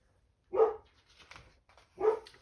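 A dog barks twice, two sharp, fairly close barks about a second and a half apart with quiet gaps and faint rustling between them.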